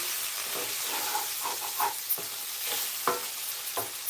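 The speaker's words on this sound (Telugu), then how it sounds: "అన్నీ కూడా చక్కగా ఇలా కలుపుకొని" A spoon stirs two spoons of chili powder into okra tamarind stew in a hot pan, giving a constant loud sizzle and hiss broken by scraping strokes at an uneven rhythm.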